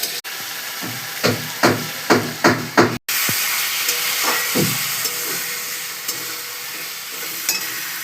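Spice paste for a Bengali fish curry (macher jhol) stirred in a pan with a splash of water, giving a quick run of scraping strokes over a steady sizzle, then a hissing burst and bubbling as the water hits the hot oil.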